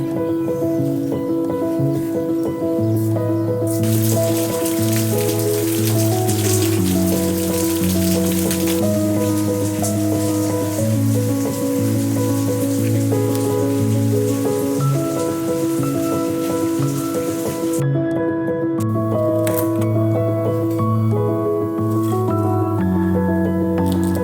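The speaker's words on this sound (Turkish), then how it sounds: "Bu arada yağmur geliyor." Steady rain falls in Istanbul, a dense continuous patter that is loud and close, with a sustained tonal hum running underneath throughout.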